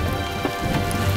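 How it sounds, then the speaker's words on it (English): Hail, some stones as big as hen eggs, pelts down steadily as a large tornado passes close by in Harper County, Kansas, a dense, loud clatter with no pauses. "Hail is coming down, some to the size of hen eggs, as this tornado passes right in front of us."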